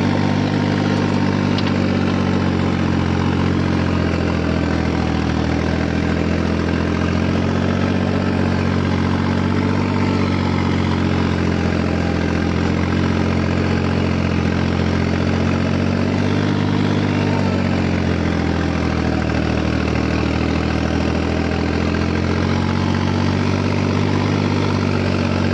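The engine of a New Holland 3630 tractor runs at a steady low rumble for the whole stretch, a loud, even drone with no pauses or voices.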